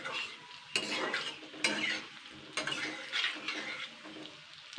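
Fried gadal leaf fritters are lifted from the pan into a bowl, with repeated close metallic scrapes and clinks of utensil against pan over a soft sizzle.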